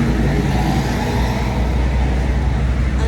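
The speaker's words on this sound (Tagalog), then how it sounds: "Ang daming sasakyan" Dense street traffic on a busy road in the Philippines, many cars and taxis passing in a continuous, loud, close roar of engines and tyres with no pauses.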